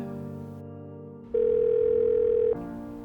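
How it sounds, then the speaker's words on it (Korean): A single steady electronic telephone ringing tone sounds for about a second over soft background music, then stops without being picked up. "현우는 7시간 넘도록 전화를 받지 않습니다"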